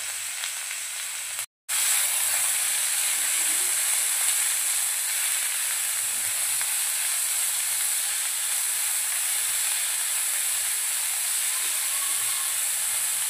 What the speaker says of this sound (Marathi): मोहरी छान तडतडायला लागली की यामध्ये आपण जिरा ॲड करूया